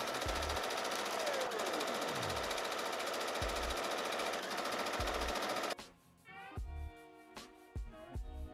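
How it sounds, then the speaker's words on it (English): Steady mechanical whirring of a sewing machine stitching around the arm seams of a corset top, running loud and continuous for several seconds, then stopping into quieter rustling and handling knocks. "And then I'm also going to sew here around both of the arm seams."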